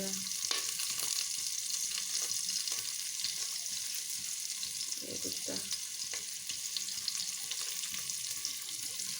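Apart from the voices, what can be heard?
spices frying in a pan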